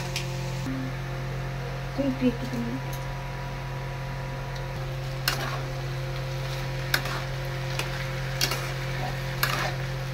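Rice is added to a pot while cooking muri ghonto, a fish-head dish, making faint scattered ticks and light patters over a constant low electrical hum and soft sizzling.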